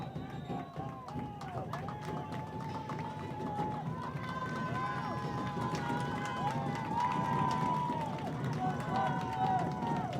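A crowd at a boys' lacrosse game against Clarkston keeps up steady, moderately distant cheering and shouting with scattered voices and whistles throughout.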